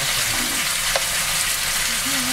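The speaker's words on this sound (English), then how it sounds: "So I'm gonna brown up the chicken and then put it in the oven" Chicken browning in a pan inside a camper RV kitchen makes a steady, fairly loud frying hiss, while a voice talks faintly underneath.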